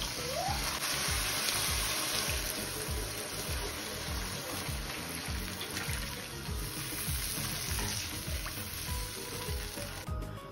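Rice frying in a pan while being stirred gives a continuous, even sizzle with soft scraping of the stirring, close but quiet, with no speech.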